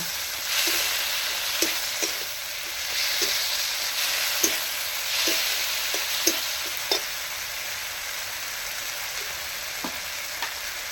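Ground coriander-cumin paste frying in a pan for a Bengali raw banana kofta curry: a continuous close sizzle with repeated light spoon taps and stirring clicks, no talking.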